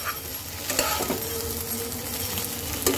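A soybean and lentil fritter curry is stir-fried in a pan, a close, steady sizzle broken by several scraping strokes and clinks of a spoon against the metal.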